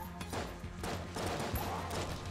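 The trash cannon in the Enter the Gungeon video game fires and explodes in a rapid series of sharp, crackling game blasts that overlap into a dense barrage.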